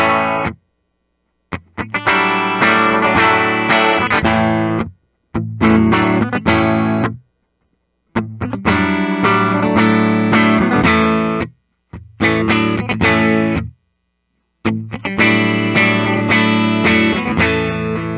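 A 2023 Gibson Les Paul Standard 50s P90 electric guitar in Tobacco Burst, played through distortion and chorus effects: loud, thick chords and riffs in several phrases broken by short silences.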